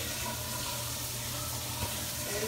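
Water runs steadily in a shower stall at a truck stop, a continuous broadband hiss at a close, even level with no talk.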